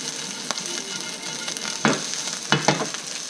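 Leftover rice sizzles steadily as it warms in a pan for kimchi fried rice, with a constant frying hiss broken by a few louder crackles and stirring scrapes.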